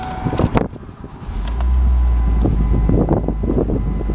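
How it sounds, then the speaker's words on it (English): A 2005 Ford Focus SES ZX4 engine starting: brief clicks and cranking, then the engine catches at about 1.5 seconds and settles into a steady, close idle hum. "Starts right up with no warning lights."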